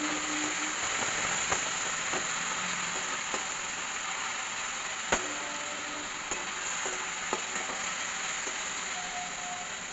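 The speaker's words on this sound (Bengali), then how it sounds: "আলুটা এবার আমি ভালো করে নেড়ে ফেলে ভেজে নেব।" Potatoes frying in a pan over medium heat for chowmein, stirred now and then: a continuous dense sizzle with occasional soft scrapes and clicks of the spatula, close and steady.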